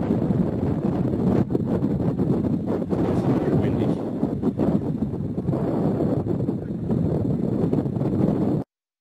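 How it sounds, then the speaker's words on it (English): Gusty wind at a coastal lookout in Hawaii buffets the microphone in rough, uneven bursts, a constant low roar that cuts out abruptly near the end. "It's a little windy."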